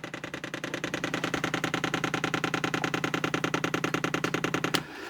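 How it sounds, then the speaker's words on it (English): A fuel pump on a 7 kW diesel heater in a garage ticks rapidly and evenly while priming, a loud close mechanical clatter of many fast pulses that stops abruptly near the end. "So they say to prime this pump is you just push this top button."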